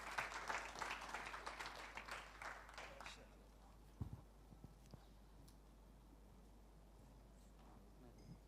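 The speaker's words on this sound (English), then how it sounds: "Let's give a round of applause to our panelists" Applause for panelists at a scientific conference in a hotel venue, a crowd clapping steadily for about three seconds before fading into quiet room tone with a few faint knocks.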